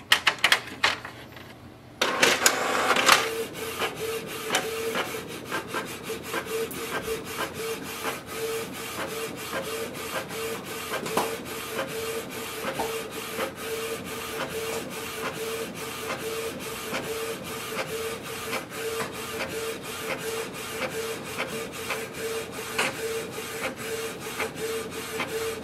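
A Canon Pixma TS3720 inkjet printer prints a page, running continuously for over twenty seconds, its carriage whirring and clicking in a steady mechanical rhythm after a brief quiet start.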